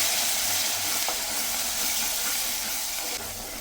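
Chili powder being stirred into a taro root curry in a pan: a steady, close hiss and bubbling sizzle with faint scraping of the stirring utensil, no voices.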